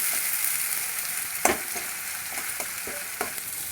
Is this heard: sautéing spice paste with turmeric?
yes